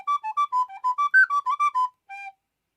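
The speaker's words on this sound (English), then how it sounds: "sopranino they call it, and that's an F one" A sopranino recorder in F plays a quick run of about a dozen bright, pure, whistle-like notes up and down, then one lower held note after a short gap, close and alone.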